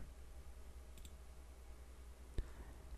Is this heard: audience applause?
no